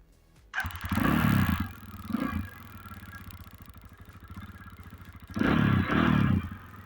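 A Loncin LX250GY motorcycle engine starts and revs in loud throaty bursts through its drumming exhaust, dropping to a rumbling idle between revs, close by.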